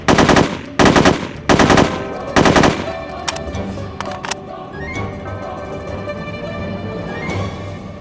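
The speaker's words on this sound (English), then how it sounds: "I'm not totally sure if feathering the trigger and shooting in short bursts is better than just going on full auto." Loud, close AK-47 fire in four short, sharp bursts in the video game No One Lives Forever 2, followed by softer in-game clatter and a sustained ambient tone.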